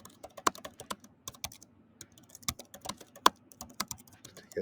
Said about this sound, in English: you could type them into your calculator